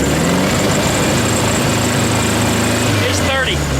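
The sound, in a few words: 1972 VW Beetle engine revving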